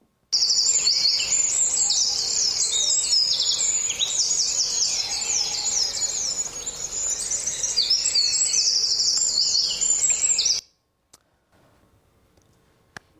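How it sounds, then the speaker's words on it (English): Dense dawn chorus of male songbirds singing just before sunrise, many overlapping chirps and trills blending into a steady, loud wash for about ten seconds before cutting to near silence. "almost all of the sound that you're going to be hearing in this recording is going to be male birds singing right before the sun comes up in the morning"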